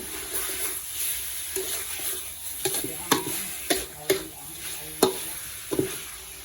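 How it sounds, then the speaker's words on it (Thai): A large batch of pork frying in a pan, stirred back and forth, with a steady sizzle punctuated by sharp, regular scrapes and knocks of the utensil roughly every half second, close and clear, no speech. "หมูเนี่ยมันเยอะทุกคนต้องคนไปคนมาก่อนจะสุก"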